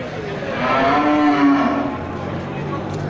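An Aceh cow at a busy livestock market lets out one long, loud, close moo that rises and then fades over a couple of seconds, with a murmur of market noise behind it.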